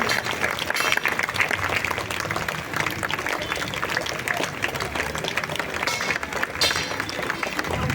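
Audience applause during a lamp lighting ceremony at a BJP political event, with women clapping loudly; dense, sustained crowd clapping fills the whole stretch at steady loudness, with some murmuring voices mixed in.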